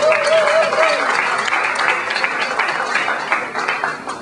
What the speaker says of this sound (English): it's your turn to share some warm round of applause